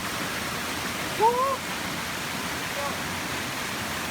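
Steady, loud rush of water falling at Pheng Tao waterfall, a continuous broadband roar filling the scene, with a brief voice rising over it for a moment.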